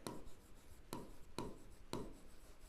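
Pen writing a math answer on paper, quiet scratchy strokes with four sharp taps or stroke onsets spaced about half a second apart, close and faint.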